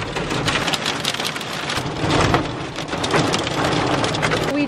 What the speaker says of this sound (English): I think hail is hitting my car right now